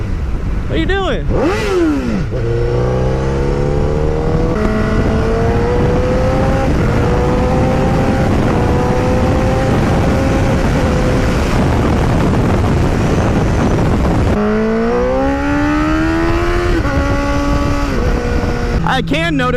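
Motorcycle fitted with an aftermarket exhaust accelerating hard, the engine climbing through the revs in repeated rising sweeps with brief drops at gear changes, loud and close, with wind noise and a voice talking over parts of it.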